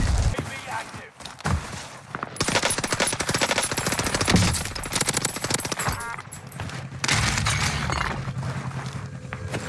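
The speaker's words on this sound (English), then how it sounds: "I'm shooting at someone." Rapid bursts of MP40 submachine gun fire in the battle royale shooter Warzone, loud and close, with other gunshots and occasional voices mixed in.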